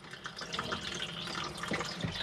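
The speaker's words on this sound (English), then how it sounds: "So there, the toilet's flushing." Fresh water flushing into the toilet of a Swift Escape 696 motorhome, a soft continuous trickling and splashing of water running into the bowl at close range.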